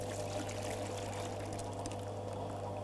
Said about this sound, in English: and just pour the water